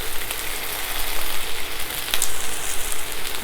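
Spinach with crushed garlic sizzles steadily in a very hot pan, a continuous close frying hiss with a brief stir partway through.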